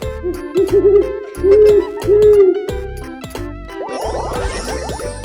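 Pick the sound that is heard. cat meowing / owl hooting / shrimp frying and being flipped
owl hooting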